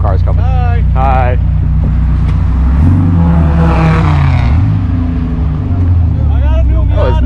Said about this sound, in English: Some cars coming.